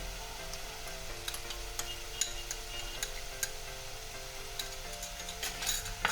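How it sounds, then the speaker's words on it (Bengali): A ginger, garlic, cumin and green chilli paste fries and is stirred in a pan, giving a steady faint sizzle with scattered light clinks of the spoon against the metal throughout. "দিয়ে আমি বেশ কিছুক্ষণ নেড়ে চেড়ে কষিয়ে নেব"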